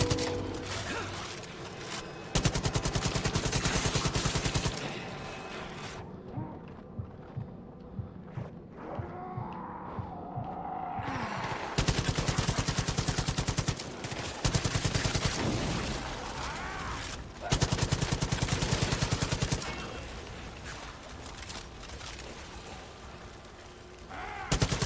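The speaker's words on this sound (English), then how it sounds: "Why am I shooting right over them?" Automatic gunfire from the Far Cry 5 zombie DLC comes in loud, rapid bursts with brief pauses between volleys, alongside other game sounds.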